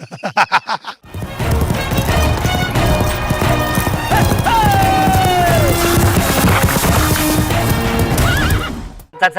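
A sound-effect horse gallops with rapid, close hoofbeats in a TV comedy sketch, then lets out a loud, drawn-out neigh partway through before the hooves carry on.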